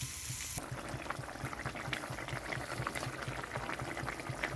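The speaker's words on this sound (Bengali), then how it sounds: "তো এখানে ঝোলটা খুব ভালোভাবে ফুটে গেছে" Fish curry with ridge gourd and potato boiling in a pan, a dense close bubbling and simmer with a steady rhythmic pulse of small bursts, after a brief quieter opening.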